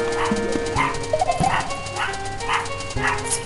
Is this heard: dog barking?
yes